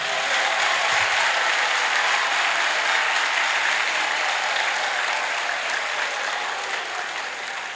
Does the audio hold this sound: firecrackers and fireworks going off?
no